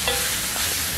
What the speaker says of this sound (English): just stir it up and cover it